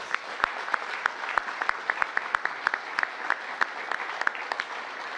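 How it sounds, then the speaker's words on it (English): Steady clapping from a sizeable crowd at a mayoral announcement event in Washington, D.C., with sharp individual claps standing out over a dense wash of applause throughout. "I think we all should give everyone a round of applause"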